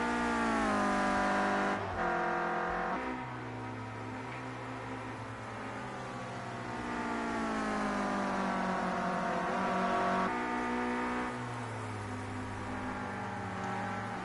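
Clio Cup race cars lapping Brands Hatch GP circuit, sustained engine roar with rising and falling pitch as cars rev, shift gears and sweep past, several distinct passes over a continuous drone.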